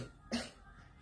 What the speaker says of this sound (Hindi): मम्मा खांसी बस अभी हो रही है,